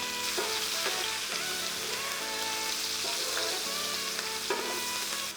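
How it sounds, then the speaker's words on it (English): Whole spices such as cardamom, anise, cinnamon, bay leaf and clove sauté with onion in a pan for mutton biryani, giving a steady, close sizzle broken by regular scraping stir strokes, with no voices. "Saute them with onion."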